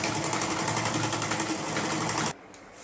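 Sewing machine running steadily as it stitches elastic onto an umbrella-style palazzo, a loud continuous mechanical whir that cuts off abruptly near the end, leaving quiet room tone.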